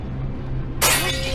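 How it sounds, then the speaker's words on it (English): A large piece of glass falls and smashes, a sudden bright crash breaking through a low background rumble and then trailing off into tinkling fragments. "A huge piece of glass fell and smashed just a step from another psychic, Olena Kurilova"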